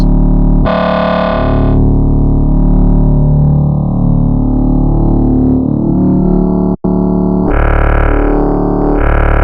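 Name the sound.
synth wavetable being scrubbed through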